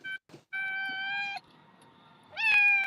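An indoor pet cat being picked up meows three times close to the microphone: a brief chirp, a long steady meow, then a rising, insistent cry after a short pause.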